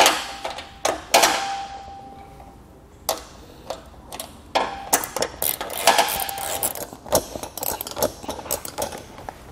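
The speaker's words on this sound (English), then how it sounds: "I'm gonna go ahead and tighten down these bolts to the trailer" A wrench works bolts tight on a trailer fender, giving a string of sharp metallic ticks and clicks at an uneven pace, close by and fairly quiet with pauses between bursts.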